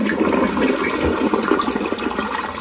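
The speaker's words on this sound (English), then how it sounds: "It's gonna give a preliminary flush." A toilet gives a preliminary flush after a $4 repair. Water rushes and gurgles loudly and steadily throughout, close up, with no speech.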